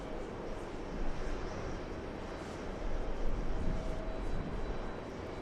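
Airliner on final approach into LAX, a steady broadband roar from the jet engines that swells slightly partway through, heard at a distance with no talk.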